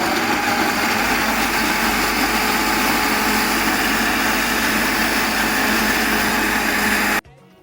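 A kitchen blender runs steadily, whirring as it purees onion, chili, fresh tomato, pounded haki seeds and grated cassava, a loud continuous motor drone that cuts off abruptly at the end.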